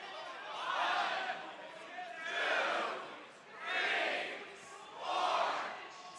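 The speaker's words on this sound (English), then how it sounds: "We got some crowd action out there as well, Kyle" A crowd at a Pokémon TCG regional tournament in Baltimore cheers in four rhythmic, swelling waves, each rising and fading like a chant, heard at a moderate distance.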